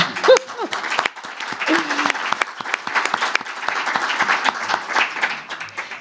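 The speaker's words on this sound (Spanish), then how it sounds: "merece un aplauso, por favor" An audience claps at a talk on coffee, a fairly close, lively round of applause with individual claps audible, alongside a few brief voices.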